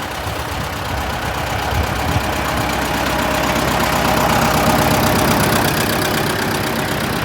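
An MTZ-80 tractor engine with a homemade mechanical differential lock runs steadily during spring plowing, a loud, continuous close-up drone with a rough, knocking idle texture and no speech.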